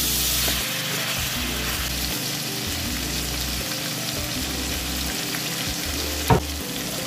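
Beef ribs sauté in hot cooking oil with a steady close crackling sizzle, and a sharp clank near the end as the pan is stirred.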